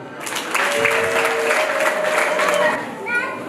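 Guests at a wedding ceremony break into a burst of hand clapping that swells quickly, holds steady for a couple of seconds, then fades with scattered claps and a few voices.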